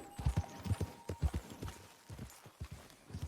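Horse hooves clip-clop at a steady walking pace in Red Dead Redemption 2, near and fairly clear, repeating footfalls across the whole stretch with no clear whinny standing out.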